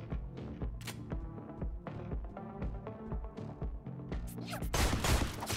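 Quick gunshots firing headshots in the top-down zombie shooter Deadbolt, a string of short sharp cracks over a rhythmic music track, ending in a louder burst of fire.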